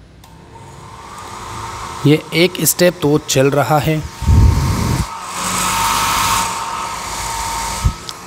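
A 1100-watt hair dryer runs off a home power inverter, giving a continuous whooshing, humming drone throughout, while someone talks over it for several seconds in the middle.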